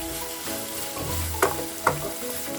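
Beef stir fry with spices frying in a pan: a steady, close hiss with two sharper clacks of stirring, over faint background music.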